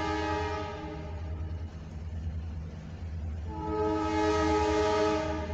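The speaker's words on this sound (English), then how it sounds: "I can hear the roar of the CFE train" An eastbound CFE mixed freight train of the FWLI line rumbles past on a light-rain afternoon, a steady heavy roar with sustained horn tones fading midway and then returning strongly.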